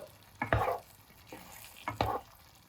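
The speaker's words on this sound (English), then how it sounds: "After adding in the chicken pieces, give a good mix with the sauce and let the chicken pieces soak in some of the sauce" Chicken pieces stirred through thick Chicken Manchurian sauce in a pan, two bursts of scraping and mixing over a low steady sizzle, close and moderately loud.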